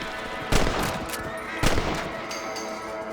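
Rifle shots at rabbits in Red Dead Redemption, two sharp, loud cracks about a second apart, each trailing into a short echoing decay over faint outdoor ambience.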